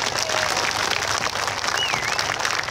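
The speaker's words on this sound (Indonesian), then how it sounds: "Tepuk tangan semuanya ini" Dense, steady applause from a crowd at a Sholawat religious gathering in Kauman, Karangrejo, Magetan, continuous and fairly loud throughout, with a faint voice or tone drifting briefly above it.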